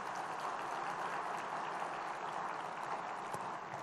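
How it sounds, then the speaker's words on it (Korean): Church congregation applauds during a sermon, a faint, even wash of many hands clapping that stays steady for about four seconds and sounds slightly distant. "박수 좀 쳐봐"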